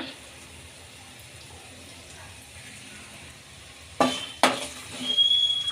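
Chana dal and urad dal roasting in a pan over a medium flame for mint rice, a soft steady sizzle with a couple of sharp clatters of a spoon or lid near the end.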